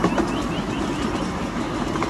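A miniature train on the Diamond Valley Railway in Eltham, Victoria, Australia rumbles along as it slows. It makes a steady, close, low rolling noise with faint rail clatter and no speech.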